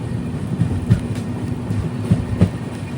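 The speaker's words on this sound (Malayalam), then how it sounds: "ട്രെയിനിപ്പോൾ അടുത്തൊരു സ്റ്റേഷനിലേക്ക് എത്തുകയാണ്" The Tatanagar Express from Ernakulam to Jamshedpur rolling along on a rainy day, heard from on board as a steady low rumble with a few soft, irregular clacks from the wheels.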